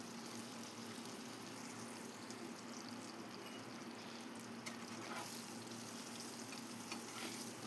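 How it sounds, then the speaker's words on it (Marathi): Boiled eggs fry in a pan with oil and turmeric for a Marathi-style egg curry, giving a steady, even sizzle with faint stirring scrapes and no talking. "नंतर यामध्ये आपल्याला ही अंडी छान भाजून घ्यायची आहेत"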